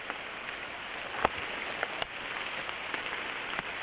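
Steady heavy rain hisses across the whole clip on a Kilimanjaro trail, with a few louder drops and patters landing close by. No voices.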